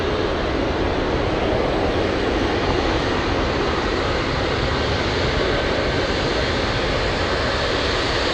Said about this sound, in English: Next arrival we have is Alaska Airlines 694 flying in from Fairbanks,